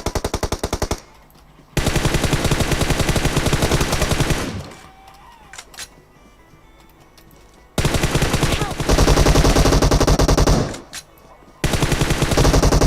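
Loud, rapid automatic gunfire from PUBG Mobile, heard in long sustained bursts separated by short quiet gaps with faint game noise between them.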